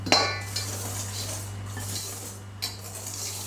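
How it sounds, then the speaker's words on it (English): A spoon or spatula scrapes and knocks against a mixing bowl while grated carrot is folded into carrot cake batter, with a sharp clink at the start and gentle, close scraping after. "So first I'm taking my carrot and I mix it into my mixture. Now you don't want to whisk, you just want to fold it in."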